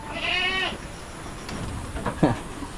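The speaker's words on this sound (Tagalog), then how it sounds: "yung lalaki nating kambing na malaki" A large male goat on a rainy farm gives a wavering bleat near the start, followed by a shorter, rougher call later, with faint background noise between.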